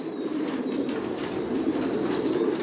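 Racing pigeons of the Janssen line cooing in a loft of breeding pairs, a dense continuous murmur of many birds close by, steady throughout with no voices.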